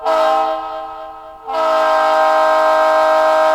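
Locomotive air horn played through the Blue Nami app, a loud, nearby chord that cuts short, then resumes in a sustained blast holding steady to the end.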